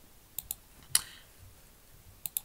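A computer mouse clicking during setup of a Smart 453 dash pod, a few sharp, close clicks spaced apart: two quick ones, a louder single, then a final pair.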